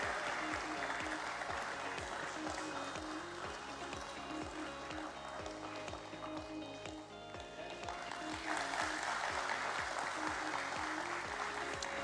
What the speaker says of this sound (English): Can we all have a huge round of applause, everyone?